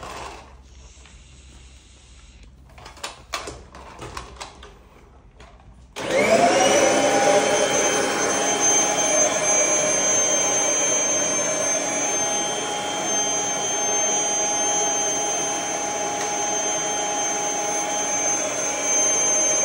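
A Kirby heavy-duty vacuum cleaner starts up after a few quiet clicks and handling sounds, then runs with a loud, steady whining roar and hiss that holds to the end.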